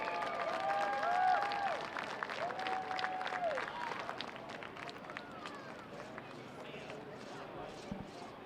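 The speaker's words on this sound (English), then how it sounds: "Have a round of applause for Chase Randall." Crowd applause at a sprint car raceway, distant and moderate clapping that fades gradually under an announcer talking over a PA.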